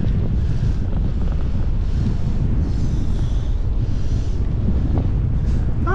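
Strong wind roars and buffets steadily across the microphone, loud and unbroken, with faint whooshing gusts layered over a deep rumble.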